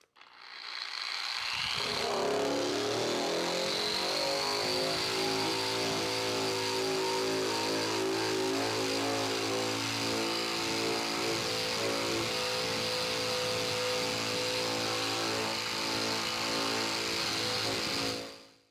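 A Bauer 9 amp surface conditioning tool with a 240 grit pad polishes tractor metal, starting up and holding a loud, steady whir and abrasive rasp close by for the whole stretch.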